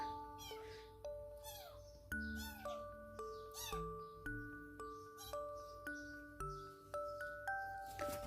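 A stray grey kitten meows repeatedly and clearly, with short rising and falling cries coming every second or so, close to the listener in a quiet setting.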